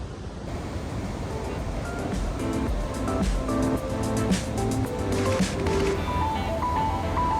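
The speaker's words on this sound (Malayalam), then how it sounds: "കണ്ടോ, ഭയങ്കര ഫോഴ്സിലാണ് വെള്ളം ഒഴുകിക്കൊണ്ടിരിക്കുന്നത്." Victoria Falls in Zambia, swollen after a rainy season, roars as a dense, unbroken rush of water. It keeps a steady, loud wash for over seven seconds, and voices are faintly heard beneath it.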